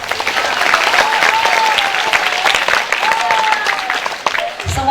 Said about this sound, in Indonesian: Tepuk tangan dulu untuk semua guru kita.